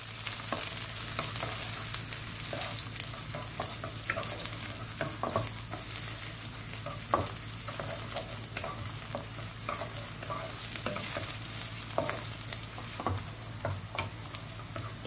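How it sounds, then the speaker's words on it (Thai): Shiitake mushrooms stir-fry in oil over medium heat, a steady close sizzle broken by frequent clicks and scrapes of the spatula against the pan, with no talking. "ผัดให้หอมนะครับใช้ไฟกลางก่อนนะครับผมให้เห็ดหอมเรากลิ่นหอมแล้วก็อมน้ำมันก่อนนะครับ"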